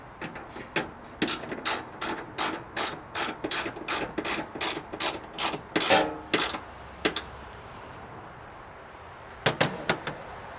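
A ratchet wrench tightens the fender brace screw on a 1995 Dodge Ram Cummins: a steady run of sharp, close metallic clicks from about one to seven seconds, then a pause and two or three more clicks near the end.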